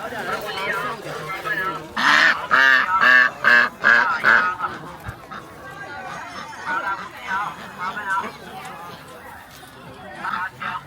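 Geese for sale at a market in Hegang give a run of loud, nasal honks in quick succession, close at hand, while people chatter around them.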